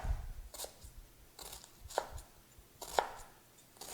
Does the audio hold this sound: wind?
no